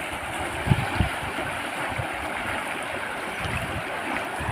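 Water rushes steadily nearby with a broad, constant hiss, broken by a few soft thuds.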